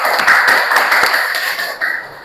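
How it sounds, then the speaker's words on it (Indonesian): Applause from workshop participants at a teacher training session, a brief burst of dense clapping that carries on steadily for about two seconds before thinning out. "sekali lagi tepuk tangan untuk kita semua"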